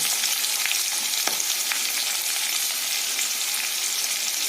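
Spices with green chillies, turmeric, salt and cumin powder fry in hot oil for a thin hilsa fish curry, a loud, dense, continuous sizzle with a brief scrape of stirring partway through.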